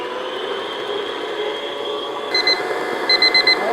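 A kitchen timer goes off after one minute of beating pound cake batter, its shrill beeps sounding in a quick rhythmic burst over a steady background hum from a mixer.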